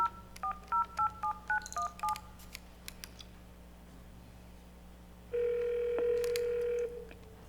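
A burst of rapid telephone keypad tones dialing out on a conference call line during a city council meeting, followed by a steady, louder tone lasting about two seconds, with no talking.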